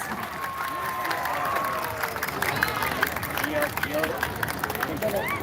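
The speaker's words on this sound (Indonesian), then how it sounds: "Mari kita sambut dengan tepuk tangan yang meriah" Audience at a live evening Balinese gamelan competition (bapang barong, solo kendang and baleganjur) applauds and cheers to welcome performers, a steady wash of clapping and crowd babble throughout, with voices talking over it.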